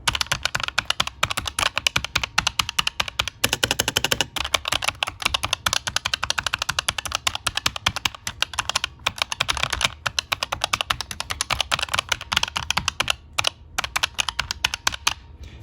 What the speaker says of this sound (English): Now you can get a feel for what it sounds like while typing.